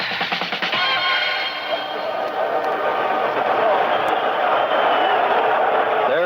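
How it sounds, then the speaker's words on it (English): A 1970 NFL stadium crowd at the Jets at Browns game gives a broad, sustained roar of reaction as New York Jets players come out of the dugouts, heard as a steady distant wash of noise. "A certain amount of reaction from the crowd here as several of the New York Jet ball players came out of the dugouts"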